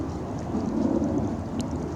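Rain falls outside as a soft, steady hiss with a faint low rumble, continuous and unbroken throughout.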